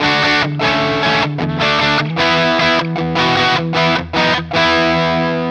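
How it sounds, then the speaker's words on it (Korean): Distorted electric tone from an Enya Inspire smart guitar, loud and close, with chords struck in repeated bursts separated by brief cutoffs in a chugging rhythm, and no voices. "디스토션으로 넘어가 보겠습니다"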